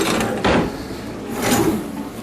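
A drawer slides open and shut during a move-out inspection of a rental home, two short rumbling swooshes about a second apart over a steady room hiss.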